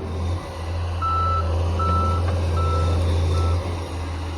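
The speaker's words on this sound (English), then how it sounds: "This is our newest purchase on the farm. 210G John Deere hi-ho, plucking out some wood from the bush." A John Deere 210G backhoe on a farm, pulling wood out of the bush, sounds four evenly spaced reversing beeps over the loud, steady drone of its diesel engine.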